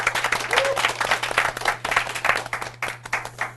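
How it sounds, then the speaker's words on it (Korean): Audience applause at a book talk on job hunting, a lively burst of many hands clapping close by that thins toward the end, with a low steady hum in the background. "박수!"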